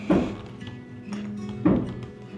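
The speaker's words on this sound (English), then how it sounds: "you hear that banging, that's Sepio banging on a unit, getting between one unit and the next." Dull heavy thunks from banging on a storage unit in a condo complex being demolished, two strong knocks with a lighter one between, echoing in a roomy space.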